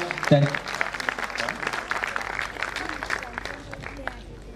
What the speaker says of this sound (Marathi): जरा टाळ्यांचा जोरदार गजर होऊ द्या